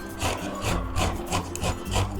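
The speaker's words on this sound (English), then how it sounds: "after cutting the zucchini, you should get this one and you should grate it" Zucchini is rubbed against a grater in quick, rhythmic rasping strokes, about six back-and-forth scrapes close up, with no talking.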